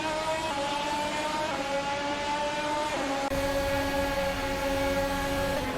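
Formula 1 race cars in the 2022 F1 game at COTA, a sustained high engine whine with gear shifts as pitch climbs and drops, loud and continuous throughout with no talking.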